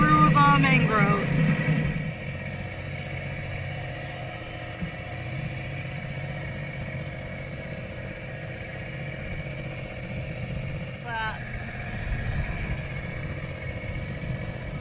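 An outboard on a dinghy running through mangroves off Cat Island, a steady low drone heard up close throughout, with people talking over it at the start and briefly again later.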